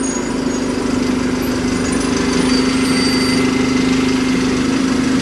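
A bus sits idling at a stop in Gainsborough, its engine giving a loud, steady, even drone close by with no change in pitch throughout.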